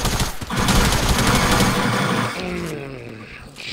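Rapid video-game gunfire in a Fortnite match, a loud dense burst of repeated shots that thins out near the end, with game sounds mixed in.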